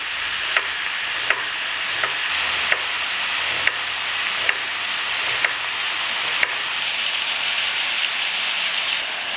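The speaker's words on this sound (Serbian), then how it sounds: "Dok se meso prži" Meat frying in a pan gives a steady, fairly loud sizzle, with sharp regular clicks about once a second, like a utensil tapping the pan, and no voices.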